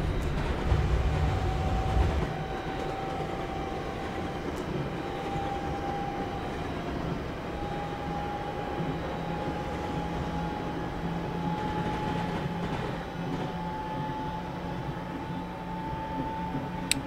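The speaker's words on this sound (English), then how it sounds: "Oh, freight train." A freight train rolls past in Train Sim 2019 with a steady, loud rumble and a long sustained tonal whine, continuous throughout with no talking.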